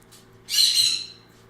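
A single harsh bird squawk bursts out for about half a second, fairly loud and close, against a quiet indoor background.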